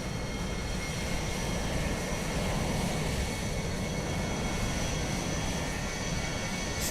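A Ryanair airliner, probably a Boeing 737 MAX with split scimitar winglets, at a simulated Dublin Airport in Microsoft Flight Simulator 2020 gives out a steady loud jet-engine roar that holds evenly throughout, with no voices.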